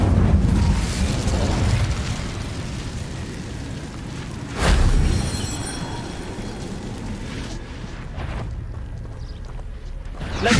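A fire spell cast in the game Hogwarts Legacy: a dense rushing, crackling roar with a sharp burst near the middle, fading into quieter, thinner effects toward the end.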